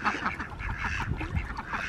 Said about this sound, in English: You ducks have already made a mud pit over here. Typical duck behavior.